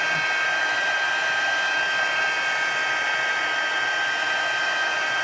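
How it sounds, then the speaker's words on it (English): A crafting heat tool blows hot air to heat set embossing on a card, a loud, constant whirring rush with a steady high whine that never changes. "sometimes people actually catch it on fire just because they don't move the heat tool enough"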